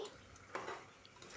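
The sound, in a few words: stirring curry masala in a pot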